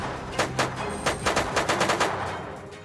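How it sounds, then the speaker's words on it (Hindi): Rapid gunfire aimed at a white Thar jeep: a loud, dense string of sharp cracking shots fires in quick succession, some overlapping, with no talking. "उनकी जीप पर ताबड़तोड़ फायरिंग हुई।"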